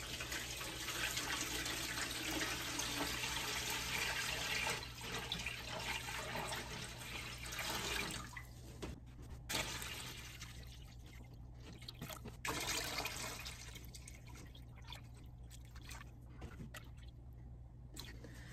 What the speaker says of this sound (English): I am going to fill this up so that I have at least 1 inch over the top of my tallest jars.